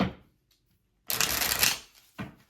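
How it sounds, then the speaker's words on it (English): A deck of playing cards used for a tarot-style reading is shuffled in two close, crisp bursts, a long riffling rush followed by a shorter one, with near silence between them. "So I had to do a couple of shuffles on these."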